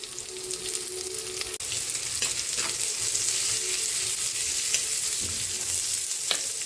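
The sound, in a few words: ginger, garlic and onion frying for pork dish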